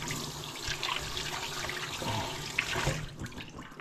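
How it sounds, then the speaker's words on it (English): Running water rinses a cured bacon pork belly under a tap, a steady broadband wash with occasional splashes and knocks, close and fairly loud throughout. "Alright, so all you do is just wash him down. Okay, just wash all that stuff off of him."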